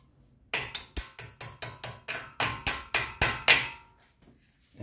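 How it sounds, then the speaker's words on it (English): A hammer knocks a second brake pin into place on the front brakes of a VW Touareg, about a dozen sharp metallic strikes in a steady rhythm, loud and close, with no talk. "hammer them all the way in."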